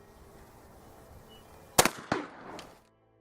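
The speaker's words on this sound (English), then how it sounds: "Another good shot right in the center of the gummy bear" A shotgun fires a slug at a gummy bear target with no choke, giving one sharp loud report followed by a second crack and a fading tail, against quiet background noise.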